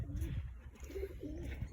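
Faint, low pigeon coos recur a few times over a steady rumbling background hum, at a pigeon coop being cleaned.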